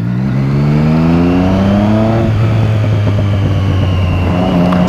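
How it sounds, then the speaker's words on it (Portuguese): Motorcycle fitted with a Lima exhaust and no dB killer revs loud and close. The engine note climbs, drops sharply, then settles into a rough, booming idle with no talking. "O Lima sem DB Killer. Parece um cano, velho."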